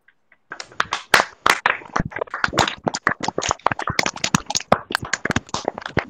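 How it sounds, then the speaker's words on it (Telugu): A church congregation claps loudly in sharp, quick, slightly uneven claps that start after a short silence and carry on without pause. "అందరూ చప్పట్లు కొట్టండి ఒకసారి గట్టిగా."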